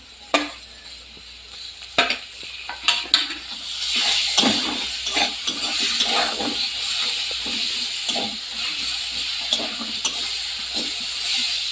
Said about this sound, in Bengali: এবার এর মধ্যে দিয়ে দিতে হবে পরিমাণ মতন আদা বাটা আর রসুন বাটা।